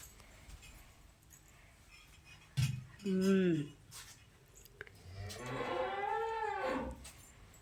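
A cow moos twice at a family gathering where food is being served, one short low call followed by a longer, louder drawn-out moo, with faint clinks of dishes and people talking around it.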